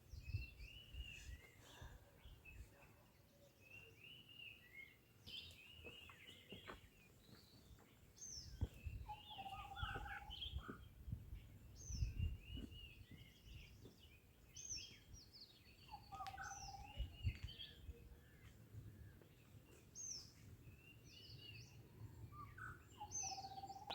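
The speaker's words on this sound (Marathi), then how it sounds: "एकदम एकदम शांतता आहे. तर पक्ष्यांचे आवाजच कानावर येत आहेत." Birds call and chirp in a quiet forest on the trail to Harihar fort near Nashik, with scattered overlapping songs from several birds at moderate distance, faint insect hum and occasional soft rustles underneath.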